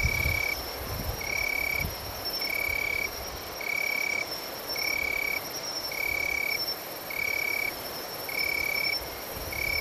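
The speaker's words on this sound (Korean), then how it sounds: "귓가를 울리는 귀뚜라미 울음소리에도" Crickets chirp at night on Jaeun Island, steady pulsing chirps repeating at a regular rhythm over a dense background hum of night insects, with no voices.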